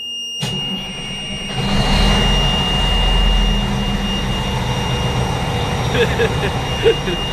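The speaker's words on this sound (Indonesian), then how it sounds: "Tunggu beberapa menit. Terus start engine." An engine starts with a sudden burst and settles into a loud, steady low rumble and whine with a high tonal hum, while voices speak faintly over it.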